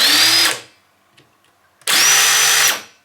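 Ryobi R18IW3-0 cordless impact wrench spinning freely in second gear with no load: two loud, steady high-pitched whirring runs separated by a brief quiet gap, close up with no voices.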